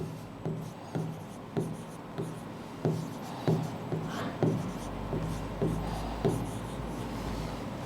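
Marker or chalk writing on a board in a physical chemistry lesson, a rhythmic series of close, short scratchy strokes and taps, with someone speaking faintly at times.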